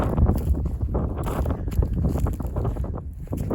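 Steady low rumble of wind buffeting the microphone, continuous and loud throughout with gusty surges.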